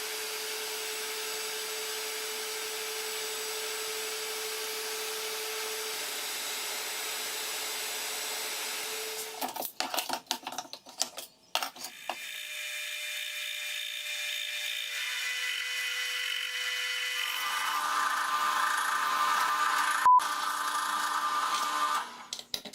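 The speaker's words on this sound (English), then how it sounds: "I'm going to use the V-bit again and use the holes on the template to mark out the hole locations on the watch" A router with a V-bit on a Pantorouter cuts into a wooden watch, a steady motor whine giving way to rough, changing cutting bursts and a loud sustained tone, with no talk.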